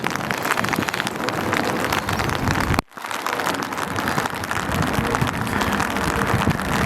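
Steady rain falls in a cemetery, a dense, loud patter on surfaces that continues throughout, broken by one short dropout.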